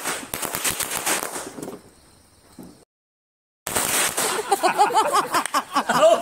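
Diwali firework rockets and crackers at a family celebration in South Africa: dense, rapid popping and crackling bursts, loud and close, dropping briefly to near silence before another barrage erupts.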